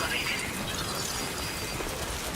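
Steady broadband rain hiss from the video game Death Stranding 2 fills the whole stretch at an even, continuous level, with no distinct drops or thunder standing out.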